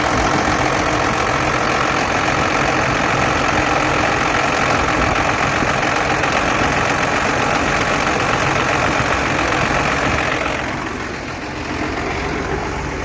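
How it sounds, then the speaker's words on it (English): A 12-valve engine swapped into a truck idles steadily after starting, a continuous close rumble with a faint knocking pulse, easing briefly near the end before settling back to the same even idle. "We're gonna start it, and we're gonna see what our battery voltage is. And if it starts charging, I'm gonna let it idle for a little while"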